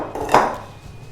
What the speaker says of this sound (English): Just whisk it properly so that everything is mixed in